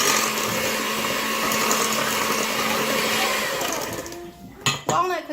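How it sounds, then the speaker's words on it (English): An electric mixer whirs steadily at close range while dry ingredients are mixed for walnut cookies, a continuous motor drone that cuts off near the end and is followed by a couple of short knocks. "Kind of mixing those dry ingredients together."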